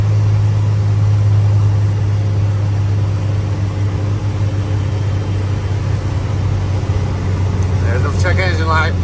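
A truck engine climbs a hill held at redline in one gear, droning steadily and loudly with a strong low hum and no shifts, while someone talks over it.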